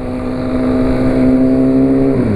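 A Honda CB 1000R or Yamaha Fazer 250 motorcycle revs hard up close, a loud sustained engine drone that holds steady and then drops off at the end.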